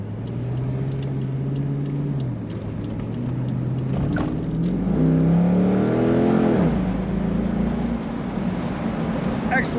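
A 2003 Chevrolet Corvette 50th Anniversary convertible, top down, pulls away under acceleration, its engine note climbing steadily through a rev sweep mid-stretch before settling, heard from inside the open cabin with wind and road noise.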